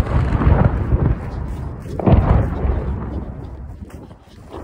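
Artillery shelling in Kherson: two heavy, rumbling booms about a second and a half apart, rolling and reverberant against a constant low background roar, close enough to feel large.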